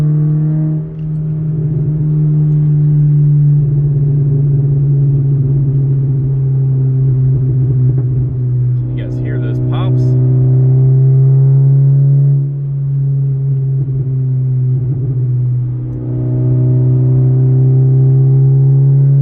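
A Scion FR-S engine heard from inside the cabin, a loud steady low drone with harmonic layers that dips briefly and returns, sustained cruising with slight pitch shifts and no talk.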